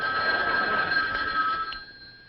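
A telephone bell rings in a steady, continuous electric trill that fades out near the end, with no one talking.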